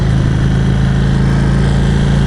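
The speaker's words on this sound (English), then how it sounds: "I must say the vibrations at higher RPMs, like, it's a weird vibration. It's like a faster vibration than a Harley." An Indian Vintage motorcycle engine held at about 3,300 RPM hums with a dense, fast, buzzy vibration, loud and close and continuous, with no talking.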